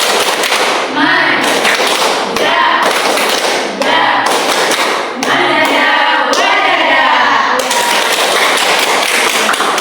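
A school class stands and performs the 'tepuk manjada wajada' clapping chant, rhythmic bursts of group claps and thumps in patterned phrases with short pauses, loud and close, with chanting voices mixed in.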